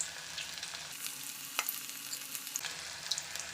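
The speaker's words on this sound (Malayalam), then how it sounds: "നമുക്കൊന്ന് ഡീപ്പ് ഫ്രൈ ചെയ്ത് എടുക്കാം." Baby corn pieces deep fry in hot oil over a medium to low flame, a steady faint sizzle with a few small pops and crackles, quiet and continuous.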